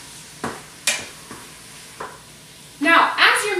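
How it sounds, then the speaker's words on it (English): Ground beef and yellow onion cooking in an Instant Pot, stirred with a wooden spatula: a few separate knocks and scrapes at intervals, then a louder burst of sizzling and scraping at the end. "as you're mixing, you want to go ahead and break up the ground beef as much as you can"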